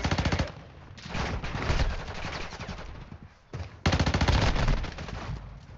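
Rapid automatic gunfire from the mobile shooter Warzone Mobile, loud and close, in sustained bursts with a brief lull before another heavy volley.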